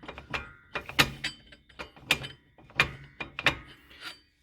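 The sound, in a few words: brake shoe adjuster wheel being turned on Honda CR-V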